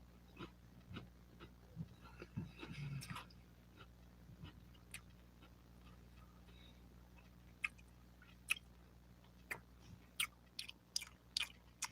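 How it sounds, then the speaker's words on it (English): Someone chewing food close to a microphone, with soft wet mouth sounds and crisp bites in an uneven rhythm that grow sharper and clickier toward the end, over a low steady hum. "Sorry, I'm chewing."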